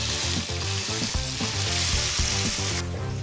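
Salmon fillet frying in a hot pan during a rushed three-course cook, a steady close sizzle with crackling spatter running throughout alongside clattering kitchen noise, no talk.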